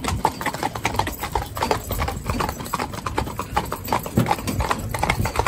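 Steady clip-clopping of a four-in-hand carriage team of horses' hooves on a hard surface, a continuous uneven rhythm, fairly close, with faint background noise.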